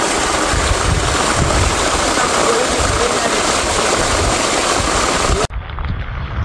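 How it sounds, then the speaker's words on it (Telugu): Rainwater rushes along a village channel in a steady, loud, close roar that cuts off sharply near the end, leaving a fainter wash. "ఇదే వాటర్ ఫ్లో."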